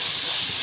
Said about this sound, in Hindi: कीमे को हम थोड़ा सा इसमें भूनेंगे अबाउट 5 मिनट्स।